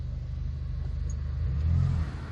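A 1993 Proton Saga Iswara 1.5 MPi SE Aeroback with a three-speed automatic gearbox driving along, its engine a steady low rumble from inside the cabin that swells slightly toward the end.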